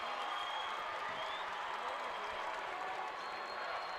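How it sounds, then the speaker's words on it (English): Crowd at a boys' Class C1 championship basketball game in Nebraska, a steady wash of cheering and applause from the stands, moderately loud, under the voice of a commentator. "The Wahoo crowd now starting to get into it."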